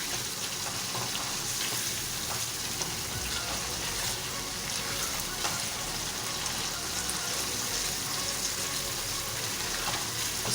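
Keema karahi with yogurt and green chilies frying over a high flame, a continuous hissing sizzle held steady at moderate level throughout, with no pauses.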